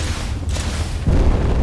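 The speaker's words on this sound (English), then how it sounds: "Wondering if that's the missiles hitting each other, or if it's actually hitting something" Missiles from front rocket pods exploding in Space Engineers, a dense rumbling roar of blasts with a heavier boom surging in near the end, loud and continuous.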